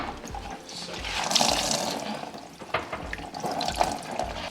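Water squirts and splashes from an old dishwasher shutoff valve pipe under a sink, a steady close hiss and spatter with a few louder surges.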